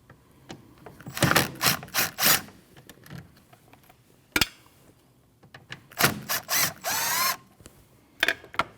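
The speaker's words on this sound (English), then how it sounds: "you need to remove your brake reservoir, which is held in by 2 T27 torque bolts" Power driver spinning out T27 Torx bolts that hold the brake fluid reservoir on a 2013-2019 Ford Escape 1.5L L4, heard as short, close whirring bursts separated by gaps and small clicks.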